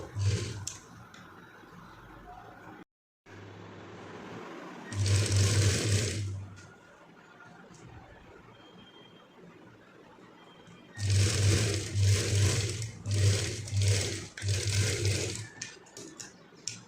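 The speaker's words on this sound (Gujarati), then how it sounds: "વચ્ચેની સાઈડ આપણે આ રીતે સિલાઈ કરી લેવાની છે" A sewing machine stitches cloth for a button cuff sleeve in two distinct runs of fast, rhythmic mechanical whirring, separated by a quieter pause with faint handling sounds.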